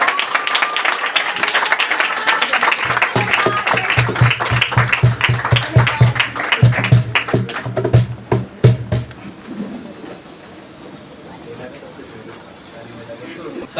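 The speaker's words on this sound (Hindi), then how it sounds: "ताली बजाएंगे प्रभु के।" Congregation clapping during Hindi-language worship, fast rhythmic hand claps under an ongoing voice, loud and close, then stopping abruptly and leaving a quieter room with lingering sound.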